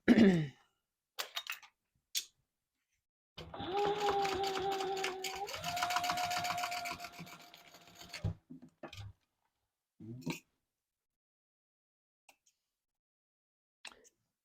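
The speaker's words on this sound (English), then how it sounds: "we're going to sew that from the bottom up with a 1/4 inch seam allowance" Sewing machine stitching a quarter-inch seam along a double-zip wallet, running steadily for about five seconds with a slight change in motor pitch midway, framed by brief handling clicks before and after.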